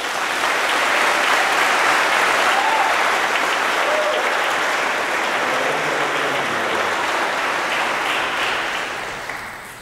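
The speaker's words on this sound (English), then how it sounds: "so give yourselves a round of applause." Graduates at a keynote address applaud in a dense, steady burst of many hands clapping at once, loud and continuous for about ten seconds before tapering slightly at the end.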